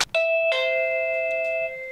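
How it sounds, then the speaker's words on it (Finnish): A doorbell chimes twice in quick succession, a short ding followed by a longer ringing tone that sustains and slowly fades, clear and close. "Siellä on nytte ovikello paikallaan."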